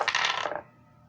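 Dice rattle and clatter onto a tabletop during a tabletop role-playing game, a dense burst of small hard clicks for about half a second that dies away into quiet room tone.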